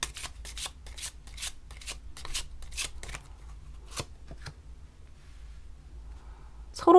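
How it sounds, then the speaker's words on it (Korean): Tarot cards are shuffled and drawn by hand, with a quick, close run of crisp riffling snaps and flicks that slows and thins out into a few quieter card movements. "카드 한 장 더 뽑아볼게요."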